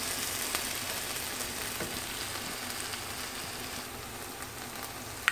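Salmon and broccoli frying in a pan, with a steady, even sizzle that carries on alone throughout, plus faint scrapes as the mixture is stirred.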